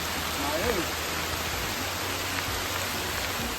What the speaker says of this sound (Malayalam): തിരികെ വരുമ്പോൾ പ്രതീക്ഷിച്ച പോലെ തന്നെ നല്ലൊരു മഴയും കിട്ടി.